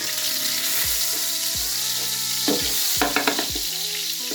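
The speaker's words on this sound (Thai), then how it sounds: "กระเทียมเหลืองนะครับ ใส่ หมูสับลงไปครับ" Minced pork frying with golden fried garlic in a pan, a loud continuous sizzle broken by repeated spatula scrapes and knocks against the pan, no speech.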